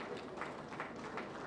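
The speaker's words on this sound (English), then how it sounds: "Please do not stop clapping" An audience at a Lagos commissioning ceremony applauds continuously, a dense, steady wash of clapping heard from a distance.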